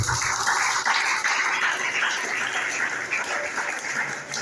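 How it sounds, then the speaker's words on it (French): A church congregation breaks into sustained applause, a dense, loud wash of many hands clapping together that holds steady from start to finish with no talking over it. "Acclamez quand même pour notre Dieu"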